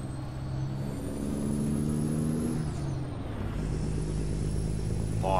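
A Kenworth K100 truck driving in American Truck Simulator on a Mexico route, with a steady low diesel rumble, a faint high whine and an air-brake hiss near the end.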